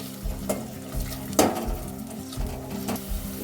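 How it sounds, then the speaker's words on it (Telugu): Plenty of sliced onions with curry leaves fry in a pan, a steady close sizzle punctuated by regular scraping and clinking stirs of a metal spatula against the pan, with no speech. "ఇప్పుడు ఉల్లిపాయలను కలర్ వచ్చేంత వరకు ఫ్రై చేసుకోవాలి"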